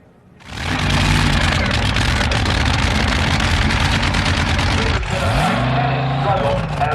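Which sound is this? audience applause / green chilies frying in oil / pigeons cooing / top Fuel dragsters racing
top Fuel dragsters racing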